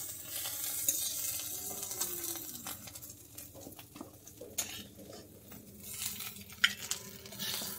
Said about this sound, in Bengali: লেবুর রস দিয়ে একটু নেড়ে নিচ্ছি